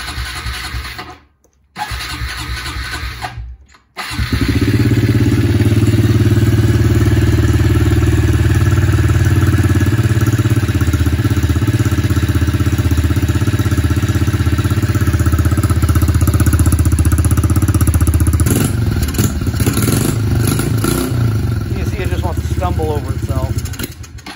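A 2015 Honda CRF110 dirt bike coughs through a couple of brief start attempts, then fires and settles into a loud, steady close-up idle with a slight rev near the end.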